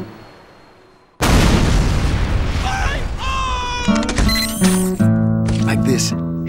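A heavy caliber tripod-mounted gun in a video game fires with a sudden loud boom, followed by a rapid clattering run of metallic mechanical shots and ringing clicks.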